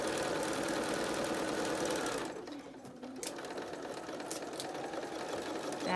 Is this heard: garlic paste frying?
no